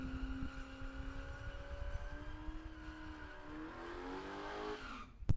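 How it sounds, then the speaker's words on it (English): A 1965 Buick Skylark drag car with a 406 engine does a burnout at a vintage drag race, tires squealing in a long sustained whine over engine drone. It is heard at a distance and ends in a sharp crack. "Wow, nice burnout from Bill Clapper of Rockford, Illinois."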